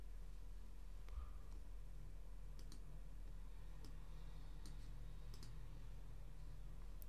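A computer mouse clicks faintly a few times, scattered through a quiet room hum, while tracks are edited in DJ software.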